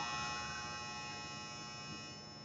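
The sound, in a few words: clothes dryer running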